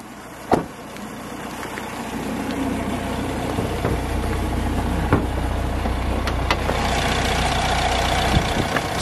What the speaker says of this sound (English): Sweet sounding engine there.